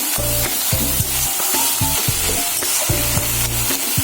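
Food sizzles steadily in an uncovered pan, with bursts of stirring and scraping that rise and fall throughout, close and fairly loud with no talking.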